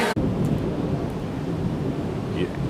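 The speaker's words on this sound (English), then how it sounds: "As you hear the thunder in the background" Thunder from a storm rolls as a steady, deep rumble through the whole stretch, loud and continuous, heard around a hotpot lunch in Orlando, with no clear speech.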